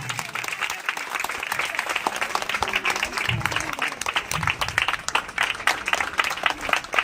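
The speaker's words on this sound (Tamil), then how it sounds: "இந்த குழந்தைக்கு நம்ம முதல்ல ஆரவாரமா ஒரு கைத்தட்டல் கொடுக்கணும்" A crowd claps enthusiastically for a child who has just performed a Bharatanatyam dance; the applause is dense and continuous, with faint murmuring voices and low rumbles mixed underneath.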